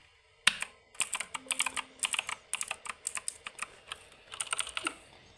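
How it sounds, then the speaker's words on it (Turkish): Rapid, uneven clicking of keys on a computer keyboard, close up and fairly crisp, with short pauses between bursts and no voices. "yeni klavye aldım. Bakın sesine."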